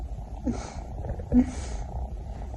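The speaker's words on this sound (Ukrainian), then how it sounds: "Муркає так." A pet cat purring close up, a soft low rumbling purr with a couple of faint breathy snorts, quiet and steady.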